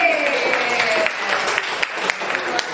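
Applause from a group, steady clapping with some crowd noise and a voice or two over it, fairly close.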